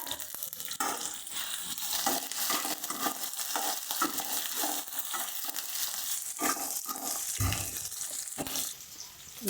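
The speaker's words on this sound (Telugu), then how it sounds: "ఆనియన్స్, పచ్చిమిరపకాయలు వేసి గోల్డెన్ కలర్ వచ్చేదాకా ఫ్రై చేసుకోవాలి." Onions and green chillies fry with whole spices for mutton keema, an uneven crackling sizzle broken by repeated stirring scrapes and spatula knocks, up close with no talk.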